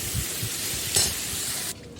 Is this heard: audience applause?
no